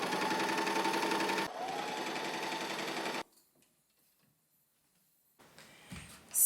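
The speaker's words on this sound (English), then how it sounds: "I did a straight stitch along the seam allowance line on top of both layers." A sewing machine runs a straight stitch along a dress seam through two layers of fabric, a close, steady rapid whir for about three seconds with a brief change in pace, then silence and some faint handling noise.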